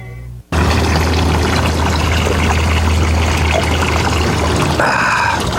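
Separated water pours back into its source from an oil skimmer unit, a loud, continuous splashing gush that starts abruptly after a brief silence and runs steadily to the end, with no talk.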